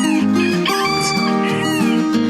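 A Belgian d'Uccle bantam rooster shrieks and crows loudly and up close, one long strained warbling call that rises and falls across its whole length with no pause.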